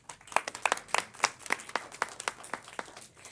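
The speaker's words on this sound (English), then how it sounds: "Please give them a round of applause." A small scattered round of clapping at a Los Angeles City Council meeting honouring the LA Conservation Corps, with individual claps distinct and irregular and fairly close.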